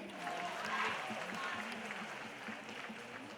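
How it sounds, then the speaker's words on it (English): An audience at the TCS IT Wiz 2019 quiz event in Kolkata claps steadily for a boy in the crowd, a fairly soft, even wash of applause with a voice faintly over it. "Can we have a round of applause for him?"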